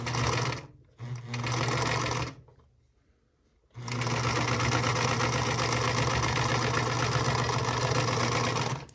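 A sewing machine stitches a patchwork seam with a loud, steady whirring run, stopping briefly twice early on with a near-silent gap before resuming for a long continuous stretch.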